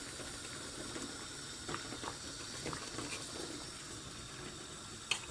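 Eggs cooking in a pan of boiling water, a faint, steady bubbling and fizzing with occasional small pops, close by and quiet.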